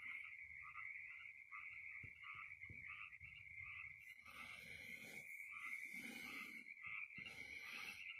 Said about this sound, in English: you can probably hear the frogs because they're much louder than they were the other night